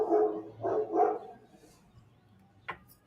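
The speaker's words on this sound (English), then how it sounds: "I'm surrounded by dogs" Several dogs bark in Mexico, three loud close barks in quick succession followed by a quieter pause and one short, sharp yip near the end.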